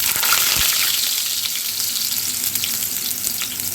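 Potatoes sizzle and crackle steadily in hot oil in a pan, a loud, close, continuous frying hiss with a brief thump near the start, no voices.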